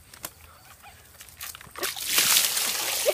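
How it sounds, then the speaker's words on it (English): A quiet rustle, then a loud rush of water poured from a bucket onto a person's head, splashing down for about a second before tapering. "Now I'm going to have water dumped on my head."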